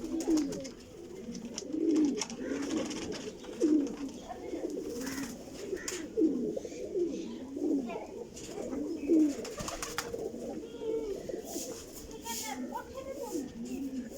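Large flying pigeons kept for racing coo repeatedly in low, throaty rolls, a steady cluster of overlapping calls close by, with faint chirps and background chatter mixed in.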